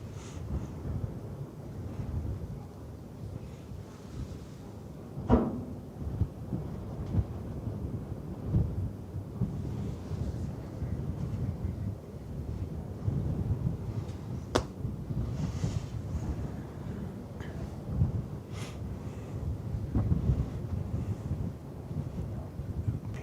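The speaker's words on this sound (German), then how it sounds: "wir stehen jetzt auch so, dass ich den Wind ziemlich gut abbekomme." Wind gusting across the open deck of a cruise ship, the AIDAprima, sailing through a Norwegian fjord, a steady low rush with buffeting bursts into the microphone throughout, no voices.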